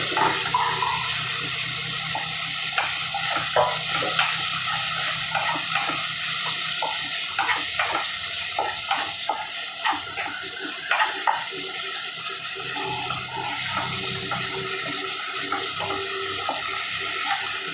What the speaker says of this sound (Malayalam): ഒരു മിക്സിയിൽ അടിക്കാൻ തന്നെ